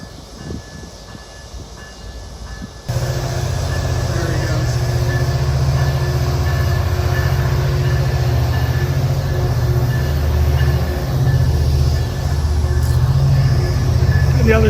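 A train rumbles past at close range with a steady, loud roar of wheels on track, starting abruptly after a quieter moment and continuing throughout.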